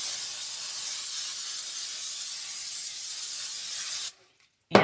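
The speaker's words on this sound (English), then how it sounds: "I am going to spray these with some more Pam." Cooking spray hisses steadily from a can of Pam over chicken wings for about four seconds, close and fairly loud, then cuts off into brief silence before a short burst of noise.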